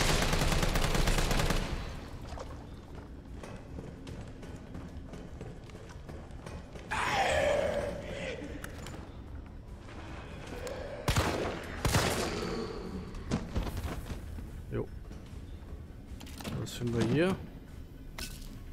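Gunfire in the video game Resident Evil 3 Remake comes in rapid bursts and single sharp shots, mixed with game effects, while someone talks over the action.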